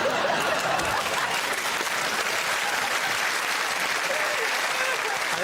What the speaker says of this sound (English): I think that might be the least satisfying round of applause I've ever had.